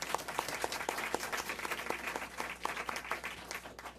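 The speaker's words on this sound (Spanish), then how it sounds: "Un aplauso, por favor." Audience applause closing a session of a cataloguing and metadata conference, steady clapping from a room of attendees with a few sharp individual claps standing out, moderately loud and sustained throughout.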